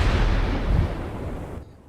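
A railgun round from a Space Engineers tank strikes another tank and tears through its cockpit and ammo rack: a loud, sustained booming roar of impact that rumbles for about a second and a half before abruptly thinning out.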